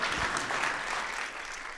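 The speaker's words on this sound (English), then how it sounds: "So how about another round of applause for those designers and models?" Applause from the audience at a community college fashion show, a dense, steady wash of many hands clapping for the designers and models, sustained at an even level throughout with no voices above it.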